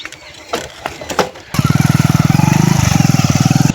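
A motorcycle engine starts after a few scattered knocks and then runs close and loud with a fast, steady chugging beat that briefly dips before picking back up.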